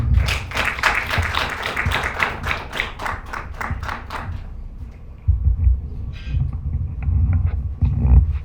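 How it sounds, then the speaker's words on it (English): An audience at an African pitching and demonstration day bursts into rhythmic, fairly loud clapping for a presenter, fading out after about four seconds into room rumble and shuffling. "Let's give him a round of applause."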